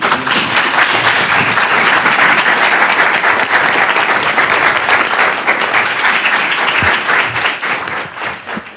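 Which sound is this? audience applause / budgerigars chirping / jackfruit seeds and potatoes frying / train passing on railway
audience applause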